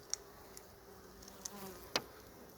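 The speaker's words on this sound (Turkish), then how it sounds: "Arılar çok saldırgan bugün" Honeybees buzz faintly in the background at a hive, a thin continuous hum broken by a few sharp clicks and closer passes.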